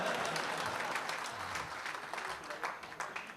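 Audience applauding at a Hindi kavi sammelan poetry recital, a dense, steady wash of many hands clapping at moderate distance, tapering slightly toward the end, with no talk.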